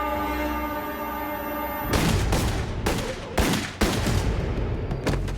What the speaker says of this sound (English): The younger one, Saeta, pulled out a gun and began to fire at Sal.